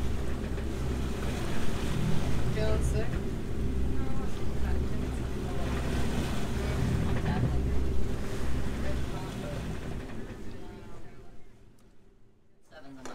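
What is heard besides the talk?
boat motoring on one engine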